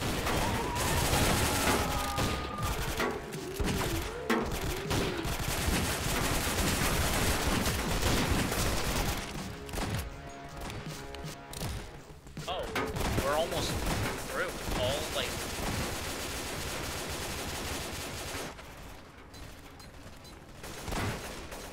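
Dense, loud gunfire in a zombie survival video game, rapid bursts and overlapping shots running almost continuously with a few brief lulls, and people talking under the shooting.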